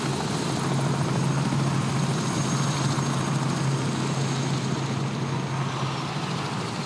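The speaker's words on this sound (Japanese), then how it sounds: "これだけの多くのヘリが発着してます" Helicopters taking off and landing at Rally Finland, rotor thumps and engine roar filling the air, loud and steady throughout, with no talking.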